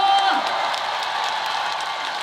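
A concert crowd at a show in Cheongju claps and cheers, producing a steady, fairly distant wash of applause with scattered whoops that holds evenly for a couple of seconds.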